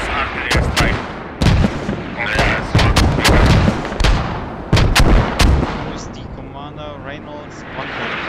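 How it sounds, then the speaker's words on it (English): A video game artillery strike on the Gordok map lands as a series of heavy, booming blasts with sharp cracks in quick succession, loud and close, while players talk over it. "they will use artillery strike"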